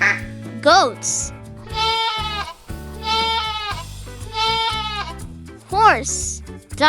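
Goats bleat in several long, quavering calls over a light musical backing, framed by short chirpy sound effects.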